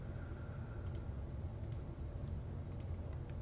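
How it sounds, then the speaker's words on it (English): Several sharp mouse clicks, some in quick pairs, land sporadically while bushes are placed as assets in Enscape 3.4 for SketchUp. They are faint over a steady background hum, with no talking. "All I have to do is start clicking and placing."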